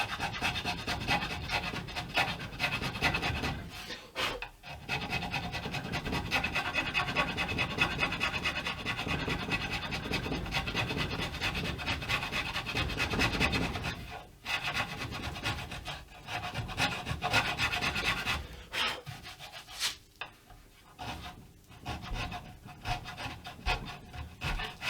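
A hand scraper works a wooden guitar neck joint, giving continuous raspy scraping strokes close up with brief pauses between passes.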